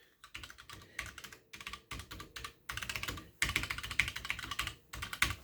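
Typing on a Redragon Parvati RGB mechanical keyboard with budget mechanical switches gives quick bursts of close, crisp key clacks in uneven runs with short pauses between words, alone and no voice.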